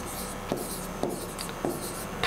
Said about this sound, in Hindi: तो लिख देंगे हम नीचे